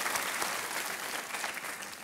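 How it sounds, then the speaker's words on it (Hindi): Studio audience applause welcoming a contestant on Kaun Banega Crorepati, a steady dense wash of many hands clapping, loud and continuous for two seconds with no voices. "एक बार तालियों के साथ इनका भी स्वागत किया जाए"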